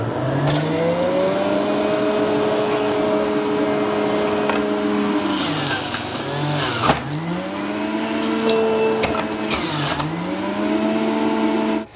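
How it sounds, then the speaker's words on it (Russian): A steady, loud electric juicer motor whine squeezing orange quarters runs throughout with pitch rising and dipping, straining under load; no voices. "Включаю соковыжималку и выжимаю сок"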